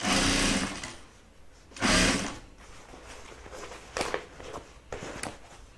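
A sewing machine stitches through a zip bag in a few short bursts, the loudest at the start and another around two seconds, with quieter clicks and handling in between, close and without talk.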